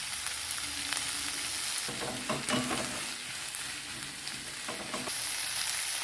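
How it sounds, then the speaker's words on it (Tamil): Brinjal and onions sautéing in a hot oiled pan, a continuous loud sizzle and crackle with occasional scraping stirs, close up and with no voices. "வெங்காயம் வதக்கும் போதே நம்ம கத்திரிக்காவும் வதக்கணும்னா நம்மளுக்கு நல்லா வதங்கி வந்துடும்"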